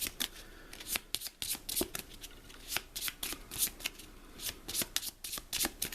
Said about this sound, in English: give you another quick shuffle